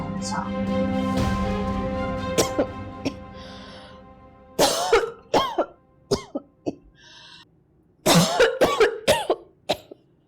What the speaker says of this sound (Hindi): पिछले 1 महीने से ऐसे ही खांसे जा रही हो।